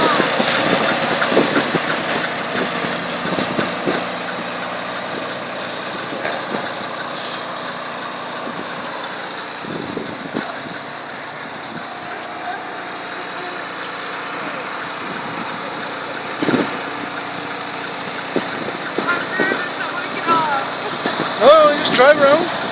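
A tractor engine runs steadily at close range, a continuous droning rumble throughout, with voices talking over it.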